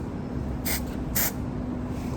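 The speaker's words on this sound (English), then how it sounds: "Let's see what the hairspray does." Two short bursts from a can of hairspray, the second slightly longer, hiss close by over a steady low background rumble, with no talking.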